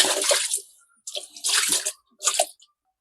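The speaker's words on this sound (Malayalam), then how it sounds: "വെള്ളം എടുത്ത് ഇതിനകത്തൊട്ട് ശാലം ഒഴിക്കുക" A mug of water is poured into a washing machine drum during cleaning, arriving in three separate splashing bursts with short silences between them, near and clear.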